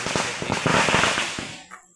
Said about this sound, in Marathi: फटाके लावल्यावर सगळे पळाले.